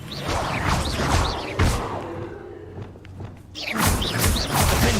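Spell-casting effects from the video game Hogwarts Legacy, loud whooshing magical bursts with thumps and swishes, one burst dropping into a brief lull before another surge.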